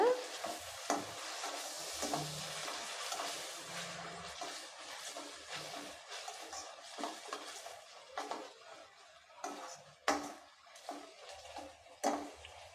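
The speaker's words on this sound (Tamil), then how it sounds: "இதோட பச்சை வாசனை போகிற அளவுக்கு நல்லா வதக்கி விட்டுருங்க" Ginger garlic paste sizzles in a hot pan while a spatula stirs and scrapes, with a few sharper clacks toward the end; close, no talking.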